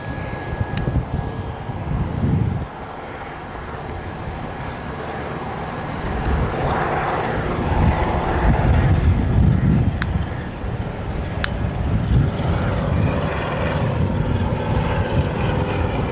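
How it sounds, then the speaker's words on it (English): Small Cessna propeller plane at Gold Coast Airport, its engine drone heard from a distance as a low rumble that swells midway and then lingers steadily, with outdoor wind in the background. "here comes another little Cessna"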